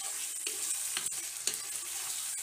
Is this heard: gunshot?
no